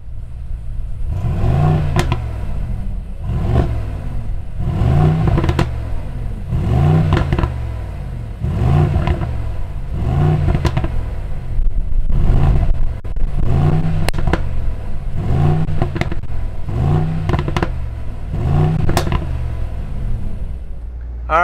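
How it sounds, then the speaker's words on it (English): A 2021 Mercedes-AMG GLS 63 SUV engine revs loudly in a steady series of about ten evenly spaced bursts, each rising and falling, close up with no talking. "Let's fire up this AMG GLS"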